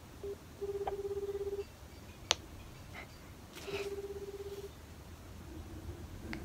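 Phone dialing tones for a call: a run of short rapid beeps, a sharp click, then a second burst of beeps, fairly quiet and close with no talking.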